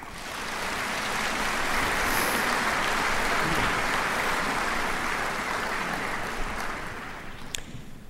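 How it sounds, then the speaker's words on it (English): A large audience at a university commencement ceremony applauds steadily, dense sustained clapping that fills the hall evenly and tapers off near the end, with no talk over it. "Will you join me in a round of applause?"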